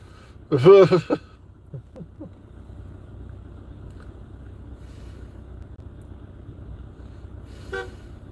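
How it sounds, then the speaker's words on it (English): A short double honk of a car horn sounds early on, followed by quiet road ambience and a faint later toot. "Somebody's honking at me."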